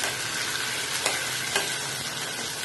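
Onions and peanuts fry in a pan with a steady, loud sizzle, broken by a couple of brief stirring scrapes, and no voices.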